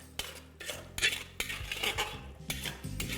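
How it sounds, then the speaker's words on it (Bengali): A metal spoon clinks and scrapes against a pan while a ginger-garlic spice paste for Kashmiri mutton is stirred over a low flame, in sharp, irregular knocks up close. "মশলাটা দেওয়ার পরে ফ্লেমটাকে লো রেখে এটাকে আপনাদের ভালো করে মিশিয়ে নিতে হবে"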